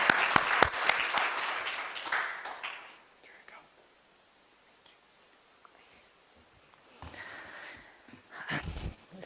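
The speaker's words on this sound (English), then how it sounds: "give a big round of applause to the Tbilisi Museums Union, who's been doing a terrific job" Applause for the Tbilisi Museums Union at a museum communications conference, with sharp close claps fading out in the first few seconds, then a near-silent pause before quiet shuffling and a few soft voices.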